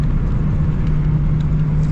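A Nissan 240SX on rough coilover suspension drives along a road, giving a steady, loud, close low rumble of engine and road noise with a constant hum and no talking over its short span.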